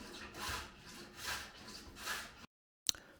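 A hand plane shaves wood in a series of smooth rasping strokes, about five even passes at moderate volume, followed by a brief silence and a short knock.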